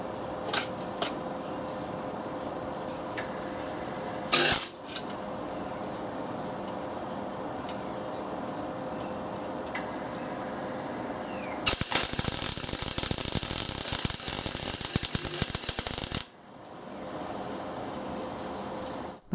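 MIG welding on a classic Mini body panel with a Clarke 135 TE Turbo welder, a harsh crackling buzz of about five seconds standing out loud over a quieter mechanical background, with a brief short burst earlier.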